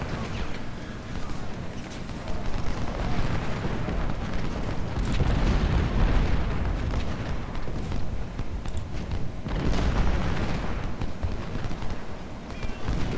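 Cannon artillery fire from Ultimate General: Civil War, a continuous dense rumble of booming volleys and battle noise that swells from about 3 seconds on and stays loud throughout.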